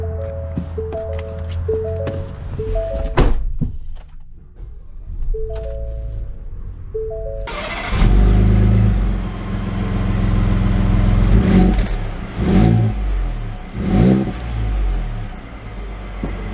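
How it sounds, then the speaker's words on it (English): A Ford Transit 350 HD AWD cargo van starts up, its engine catching with a loud burst after a few soft chimes and clicks, then idling and revving as it pulls away, close and fairly loud. "let's take it out and drive it"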